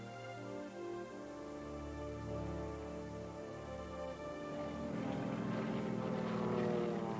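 The engines of a four-engine B-24 Liberator bomber drone steadily on takeoff during the World War II Ploiesti raid. The harmonic roar swells louder toward the end.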